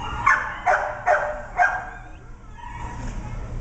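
An 8-year-old sick boxer barks at the Downey animal shelter, four quick sharp barks close by, followed by softer whimpering against the low shelter background noise.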